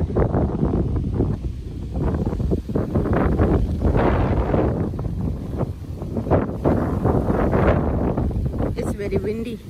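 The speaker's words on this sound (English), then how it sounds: "Very windy" Strong wind buffets the microphone outdoors by an elementary school parking lot during a Memorial Day parade in West Windsor Township, New Jersey, a loud continuous rumble with gusts throughout.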